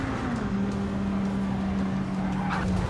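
A race car in Gran Turismo 7 re-accelerating instead of braking, a steady loud engine drone with a held tone sliding slightly down over three seconds, with other cars in the mix.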